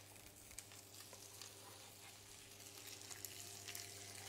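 Butter sizzles steadily in a frying pan as garlic cooking gets under way, a continuous broadband crackle with a low steady hum beneath it and no voices.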